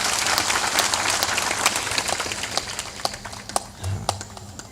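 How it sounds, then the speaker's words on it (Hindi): An audience claps at a public political gathering in a dim venue, a dense burst of applause that thins into scattered claps, with a voice briefly audible near the end. "वहाँ ताली बजा दो सम्मान में थोड़ा।"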